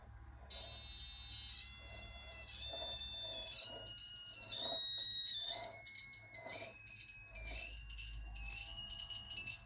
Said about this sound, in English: you can hear the frequency, like the sound of this buzzer change to a higher pitch